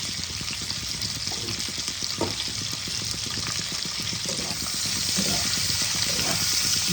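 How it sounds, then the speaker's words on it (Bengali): Capsicum fries in a pan with salt and turmeric, a continuous close sizzle with small crackles and stirring taps that grows slightly louder toward the end. "ভালো করে ভেজে নেব।"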